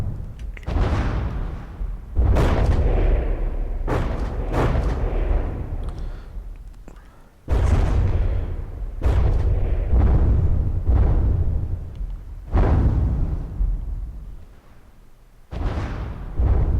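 Heavy explosions boom repeatedly in the naval combat game From the Depths, each a loud, deep blast with a rumbling decay, arriving in irregular bursts several seconds apart.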